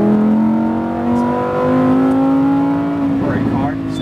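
Lamborghini Huracan Evo engine pulling hard at full throttle on a track, a loud rising drone that climbs steadily in pitch before a brief shift near the end, with an instructor's voice over it.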